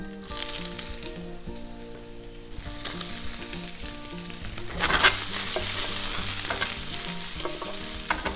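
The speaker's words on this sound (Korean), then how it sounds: "기름 두르시고요. 마늘 조금 불만 내주시고 여기다가 곱창 먼저 넣을게요." Gopchang (beef intestines) frying with garlic in an oiled pan gives a loud, close, continuous sizzle with stirring, growing fiercer partway through as the crackle intensifies.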